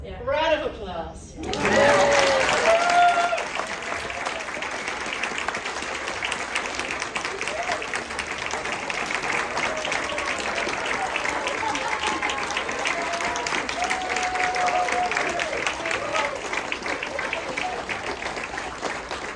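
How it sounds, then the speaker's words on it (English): Sustained audience applause at a Claremont event honoring a woman's Molokai Channel swim: loud, dense clapping begins abruptly and carries on steadily for nearly twenty seconds. "Round of applause."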